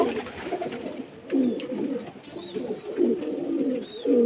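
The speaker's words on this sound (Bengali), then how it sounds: "এই যে প্রজাতির পাখিটা পায়রা" Pigeons coo in soft, repeated low rolling calls close by, with faint chirps from other birds in the background.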